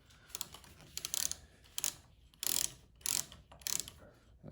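Milwaukee 4-in-1 lineman's insulated ratcheting box wrench on a 9/16 fitting, giving several short bursts of quick clicking spaced about half a second apart, close and fairly quiet with no talk.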